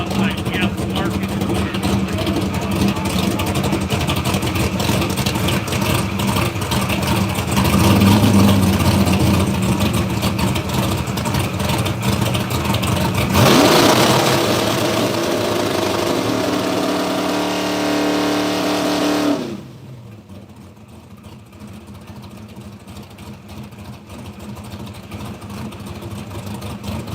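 A drag racing car's engine roars and revs at a dragstrip during a rally drag-and-drive event, loud and sustained before cutting off abruptly into quieter background noise, with people talking nearby.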